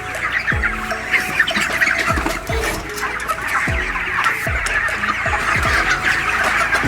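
A crowd of chickens on a ten-thousand-bird poultry farm clucks and squawks loudly and constantly, many birds calling over one another in a busy, dense chorus.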